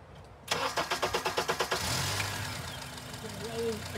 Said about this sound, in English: So take a look, I'll roll it and get it cranking.